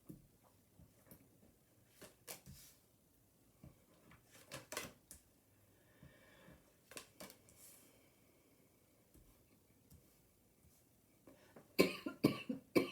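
Quiet, scattered coughs repeat across a mostly hushed stretch, growing into a louder cluster near the end, with no talking.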